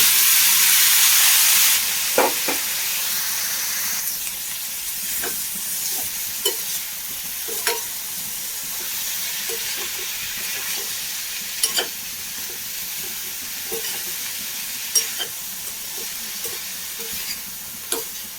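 Onions and chillies are frying in a pan as cooked beans for a Kerala bean stir-fry are added, with a steady close sizzle and repeated scraping stir strokes scattered throughout.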